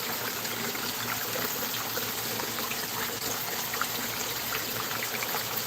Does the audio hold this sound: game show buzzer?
no